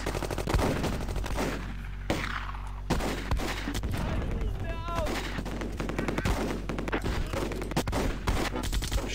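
Gunfire and explosive bursts from the Close Combat World War II strategy game, with a panzer or bazooka firing amid a rattling fusillade, sharp reports scattered over a constant low rumble, with a voice talking over parts of it.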